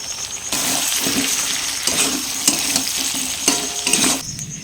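Chicken with raw potatoes and ginger paste stir-fried in a pan, a constant close sizzle broken by several bursts of stirring and scraping, with no one speaking.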